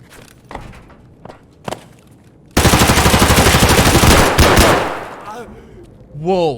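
A full magazine emptied in Escape from Tarkov: a loud sustained burst of rapid automatic gunfire lasting about two seconds, preceded by a few scattered clicks and steps, with a voice briefly at the end.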